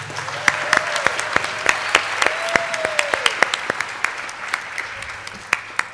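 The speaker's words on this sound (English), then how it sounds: "let's give them all a big round of applause once again" Audience applause closing a mridangam arangetram concert evening, a steady wash of clapping with sharp individual claps standing out, fairly close, while a faint tonal whistle or feedback sweep drifts through the background.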